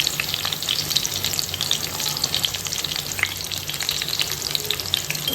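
Eggplant slices sizzle and crackle steadily in a hot pan after salt and turmeric go in, a close, continuous frying hiss with faint stirring scrapes throughout.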